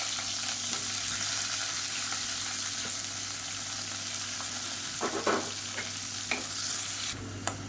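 Large sliced onions with cardamom and other whole spices frying in a pan, a continuous loud sizzle with a few clinks and scrapes of stirring near the end, no voices.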